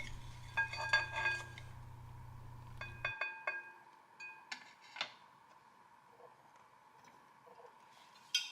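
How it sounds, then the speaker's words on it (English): A whisk combines garlic sauce ingredients with olive oil for tofu and broccoli, giving soft, close metallic clicks and taps against a bowl in an uneven rhythm over a quiet background, with no talking. "I'm going to whisk to combine"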